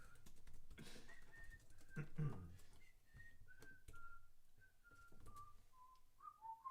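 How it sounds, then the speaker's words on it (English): A person whistles a wavering, sustained melody made of held tones that slowly drift downward, fairly close and alone, with a brief burst of laughter or breath partway through. "can't whistle if you make me laugh."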